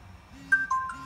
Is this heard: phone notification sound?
yes